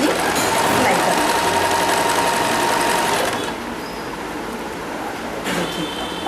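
A sewing machine stitches a small dhoti for a Shri Krishna or Shri Ram deity, running in a fast, close whir for a few seconds before slowing and stopping, with a short burst near the end.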